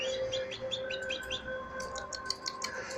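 Pet birds chirp indoors in quick bright bursts and scattered tweets, close and fairly clear over a steady background hum, with no talking.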